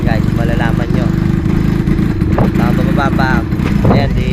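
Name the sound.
motorcycle engine sputtering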